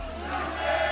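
Brazilian esports arena crowd roaring behind their team during a Valorant grand final, a dense, sustained wall of cheering that swells slightly toward the end.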